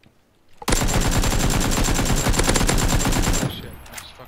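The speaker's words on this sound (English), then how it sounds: "Oh, I'm getting shot, Jeremy." A loud, unbroken burst of automatic gunfire rattles for about three seconds in the video game PUBG, sharp and close, then cuts off abruptly.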